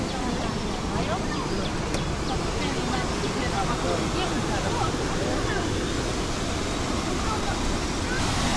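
Davis Fall near Lake Phewa in Nepal pours with a powerful, dense, unbroken roar of falling water, loud and steady throughout, with faint higher splashing textures in the wash.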